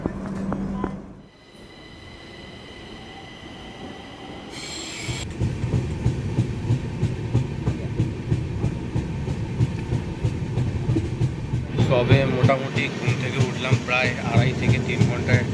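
The 22503 Vivek Express passenger train, in 3AC class, runs on rails near Alipurduar with a steady close rumble and continuous clickety-clack of wheels, brief squeals, and a sharper, brighter rattle toward the end.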